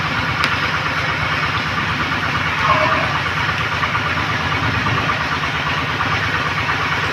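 A farm tractor engine idles with a steady, low rumbling chug in heavy rain, loud and continuous throughout.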